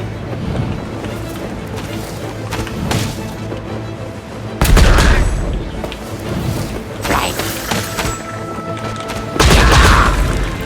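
Bombs exploding in the Genshin Impact video game, with two loud sudden blasts over a busy layer of game effects and wind-like whooshing. Other bursts are scattered between them.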